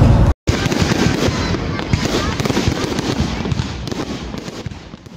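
Diwali firecrackers bang and crackle in a dense, loud barrage throughout, with sharp bursts close by and a brief silent gap near the start, leaving no room for talk.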